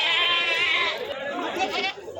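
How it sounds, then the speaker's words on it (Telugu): Goats bleat at the Kothacheruvu weekly livestock market, one long loud bleat followed by wavering calls, all mixed with the chatter of a busy crowd nearby. "మేకలన్నీ కూడా చాలా అంటే చాలా బాగున్నాయి"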